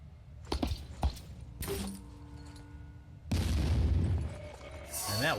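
Grenade blasts from the Phoenix Point strategy game: several sharp booms early on, then a long, loud roaring explosion rumble midway and another burst near the end.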